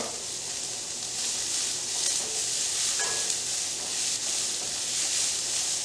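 Prawns with ginger and lemongrass stir-fry in a pan, giving a steady, even sizzle and hiss with faint stirring scrapes throughout and no talking.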